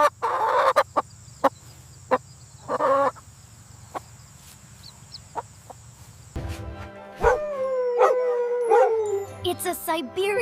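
A chicken gives a series of short, sharp clucks, then a busier stretch of warbling, drawn-out calls that runs to the end, fairly close and clear.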